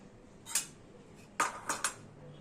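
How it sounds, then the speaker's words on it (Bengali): Cauliflower pieces being mixed with cornflour in a bowl, a few soft clinks and scrapes of a utensil against the bowl, close and sparse in an otherwise quiet kitchen. "এবার এটাকে বেশ ভালো করে মাখিয়ে নেব"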